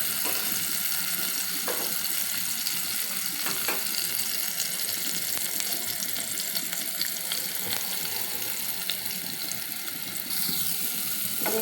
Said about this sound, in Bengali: এখন আমি ডিমটা এক সাইডে সবজিগুলো করে ভেজে নেব